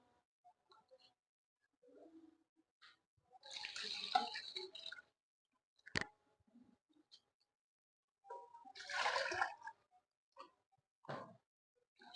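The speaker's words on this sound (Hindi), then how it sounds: "ये पानी शामिल कर दिए और इसको अच्छी तरह अभी इसमें मिक्स करेंगे।" Water poured into haleem stock (yakhni) in a cooking pot, heard as two splashing bursts a few seconds apart against an otherwise quiet kitchen, with faint clinks between.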